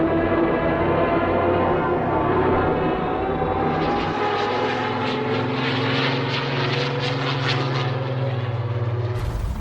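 WWII propeller fighter aircraft engines during the Battle of Britain, a steady droning roar that swells as planes pass overhead, with pulsing bursts like gunfire late in the sequence and no speech.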